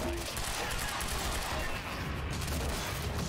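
Gunfire from the video game Quantum Break rattles in steady, dense bursts throughout, loud and close in a busy firefight with continuous noisy crackle.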